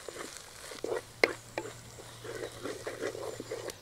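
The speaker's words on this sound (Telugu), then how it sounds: "ఒక 2 నిమిషాలు ఇలా వేయించుకుందాం" Ginger garlic paste, turmeric and curry leaves frying in a pan, a soft crackling sizzle with scattered sharp clicks and the scrape of a spoon stirring, faint and close.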